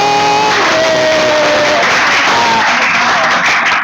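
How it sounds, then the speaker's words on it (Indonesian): Ninth-grade class in an Indonesian junior high school claps together, a loud continuous burst of applause in a classroom with some voices and tonal sounds layered over the start. "Kasih tepuk tangan, dong."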